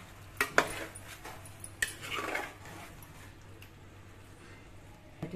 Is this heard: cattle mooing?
no